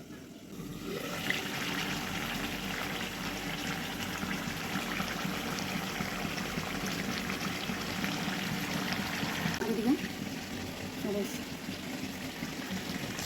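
Water poured steadily into a cooking pot of chicken curry in a home kitchen, a continuous splashing rush lasting the whole stretch, close and fairly loud, with faint talk underneath.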